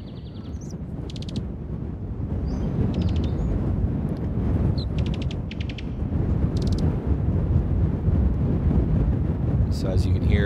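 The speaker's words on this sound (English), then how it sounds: "So as you can hear, the gusts are coming from this direction." Broad synthesized wind gusts made with Unreal Engine 5 MetaSounds swell and ebb continuously, loud and close, with occasional faint clicks and chirps over the noise.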